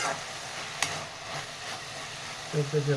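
A spoon scrapes and stirs banana flower curry with tomato and salt in hot oil, soft sizzling under faint clinks, with a short tonal beep-like pattern near the end.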